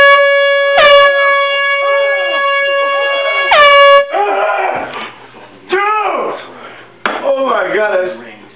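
A loud air horn blasts close by in a wake-up prank, two sharp piercing honks and a longer sustained blare, then a startled person cries out and shouts in alarm amid rustling.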